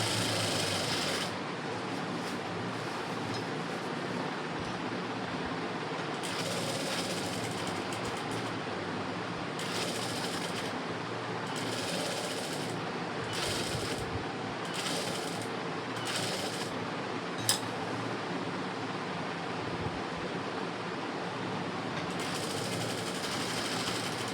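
A sewing machine stitching an embroidered blouse, a steady loud mechanical whirr running almost the whole time in bursts of varying speed with brief pauses, plus one sharp click near the end, no talking.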